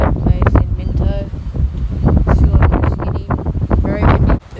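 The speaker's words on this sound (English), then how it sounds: "Very windy in a place called Burkett Place in Minto." Strong gusts batter the microphone outdoors at Burkett Place in Minto as a cold front passes, producing loud, uneven roaring buffets that come in rapid bursts with hardly a pause.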